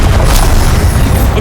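A Confringo spell explodes in the Hogwarts Legacy video game, a very loud, dense, roaring boom with heavy low rumble sustained across the whole brief moment.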